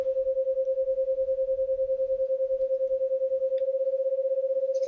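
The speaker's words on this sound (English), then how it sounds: "I'm going to bend this sine wave so that it's slightly off." Two sine waves, one bent slightly off pitch, play a steady pure tone that throbs with regular beating pulses. The beats quicken toward the end as the detuning widens, and the tone sounds alone, with no voices.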